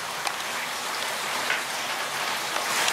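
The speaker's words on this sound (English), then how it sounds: "as you can see, the rain is coming down" Heavy rain pours down during a storm from the tropical system Delta, a dense, constant hiss of drops on surfaces with occasional louder spatters, steady and close throughout.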